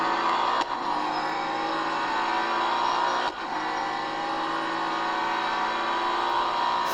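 Mercedes-Benz C63 engine at a drag race, a loud sustained roar with steady high revs throughout and two brief dips like gear shifts, no voices.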